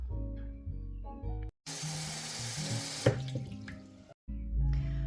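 Tap water runs into a saucepan holding peeled, cubed potatoes, a broad steady splashing gush in the middle that cuts off, with quieter kitchen clatter and hums before and after.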